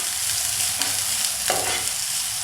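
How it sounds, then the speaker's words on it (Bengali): Chopped onions frying in oil with mustard seeds and chilli over a low gas flame, a close steady sizzle with soft stirring scrapes and no voices. "এই পেঁয়াজগুলো আমি সর্ষের সঙ্গে একটু ভেজে নেব।"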